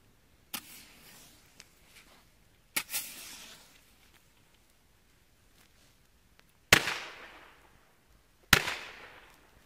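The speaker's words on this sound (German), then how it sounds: "So, jetzt kommen deutsche Knaller, Reibkopfknaller von Weco Feuerwerk." Weco friction-head firecrackers exploding one at a time, four sharp loud bangs spaced a few seconds apart, each followed by a brief fading echo, outdoors with no talk.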